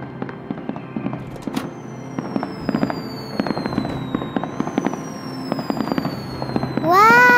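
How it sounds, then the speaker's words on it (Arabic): Cartoon fireworks bursting in a rapid run of sharp pops and crackles with whistling rockets, ending in a loud bright swell, with no talking. "ألعاب نارية رائعة"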